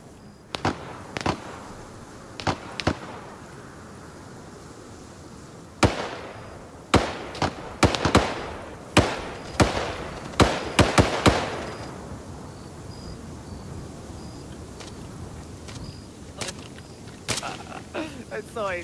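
Gunfire in the Arma 3 military video game, sharp separate shots and short clusters spaced across the clip with reverberant tails, some loud and close and others fainter, mixed with scattered voices.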